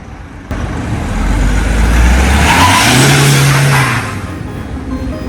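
A 2020 Isuzu D-Max 1.9 automatic pickup with a flashed ECU launches from a stop, its engine rising into a loud, sustained rev close by before easing off near the end, with no talking.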